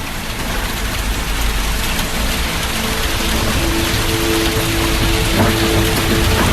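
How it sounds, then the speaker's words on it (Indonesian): Heavy rain pours down at night, a dense, steady hiss and roar that stays loud and unbroken throughout, with no voices. "hujan semakin malam malah semakin besar"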